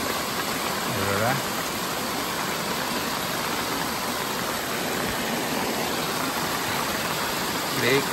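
River flowing downhill at night in a Konkan village, a dense continuous rushing wash of water heard up close, with faint voices briefly audible at the start and end.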